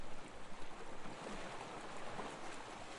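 The sea's waves make a continuous, wide wash of surf noise that rolls gently without clear breaks between individual waves, fairly close and steady throughout.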